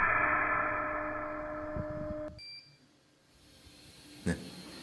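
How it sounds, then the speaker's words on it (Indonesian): A protection buzzer on a shorted SPWM ATmega inverter emits a steady high beep for a couple of seconds, then cuts off, leaving faint brief tones and a small click. "setelah kita shortkan terus menerus ini dia buzzer terus berbunyi dan output pun juga akan off"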